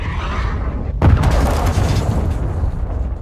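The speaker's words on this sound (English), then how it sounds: "Friendly cruise missile approaching target." A cruise missile blows up in Call of Duty: Modern Warfare II, a sudden loud boom after a second of quiet background, then a long rumbling roar that keeps going to the end.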